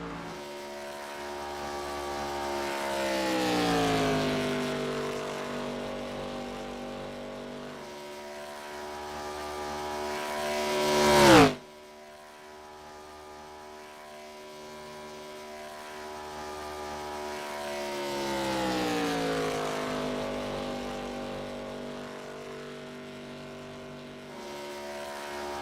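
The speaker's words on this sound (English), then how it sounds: "Roberts doesn't sound like he's getting all the RPMs out of that motor" An ARCA stock car engine at Daytona, a droning roar that rises as the car approaches, peaks loudly as it sweeps close past, then drops in pitch and fades, followed by another car approaching and passing more distantly.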